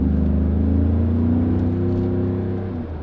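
Engine of a 2017 Mercedes-Benz G63 AMG Edition 463 while driving: a loud, deep, steady V8 drone with a rising, sustained pitch, heard close and continuous before easing slightly at the end.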